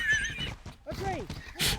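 A horse in a video game whinnies briefly, a short rising and falling neigh over faint background voices.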